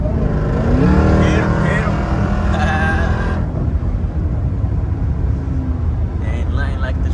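A Jeep Grand Cherokee Trackhawk's engine roars loudly and steadily from inside the cabin, the revs rising and falling, while people talk and shout over it.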